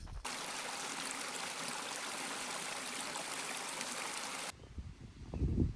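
Creek water rushes and trickles steadily below a sycamore tree beside a hiking trail, a constant close wash that cuts off abruptly near the end, leaving faint rustling and handling noise.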